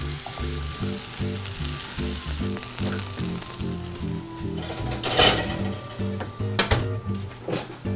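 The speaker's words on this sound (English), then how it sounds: "So now that we have our tomatoes nicely fried in our olive oil" Tomatoes sizzle and fry steadily in olive oil in a kitchen pan, a continuous close crackle under a repeating background music pattern, with a few louder spits and clinks of utensils toward the end.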